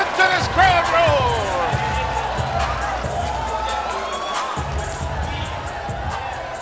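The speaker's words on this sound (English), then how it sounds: "And listen to this crowd roar!" A boxing arena crowd roars steadily at a bout between Carl Jammes Martin and Petchchorhae Kokietgym, the dense noise loud and continuous while a commentator talks over it.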